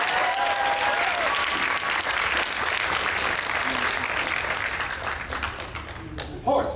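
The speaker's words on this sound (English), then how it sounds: "Give Lexi a round of applause." An audience at an anime convention acting lesson applauds, a loud, continuous burst of clapping that holds steady for about six seconds before thinning out, with faint voices underneath.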